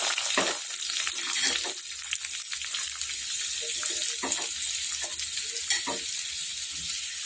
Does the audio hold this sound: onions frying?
yes